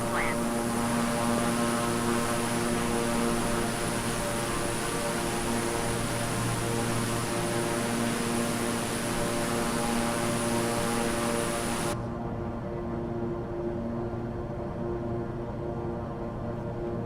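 Steady, droning propeller engine of a fixed-wing air ambulance plane climbing through 3,600 feet, a constant close cabin hum with strong tonal harmonics throughout, the high whine cutting out near the end.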